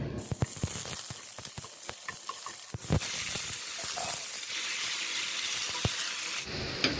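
Chicken sautéing in a pan with salt added and vegetables to follow: a steady, close frying sizzle with scattered sharp clicks and scrapes of stirring, continuous throughout with no talking.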